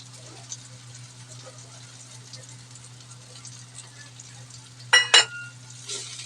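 Onion frying with spices in a pan for chicken sukka gives a soft, steady sizzle against a low hum, with two sharp metallic clatters near the end.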